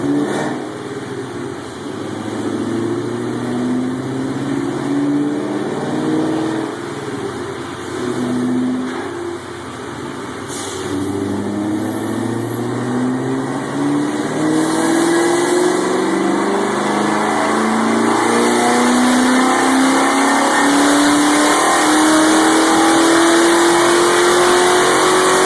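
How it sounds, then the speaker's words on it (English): Car engine revving hard through a dyno pull, the pitch climbing steadily for over twenty seconds as the loud, close engine sound builds toward the end. "Here's a video of the dyno pull."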